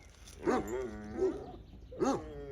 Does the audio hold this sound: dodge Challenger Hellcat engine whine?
no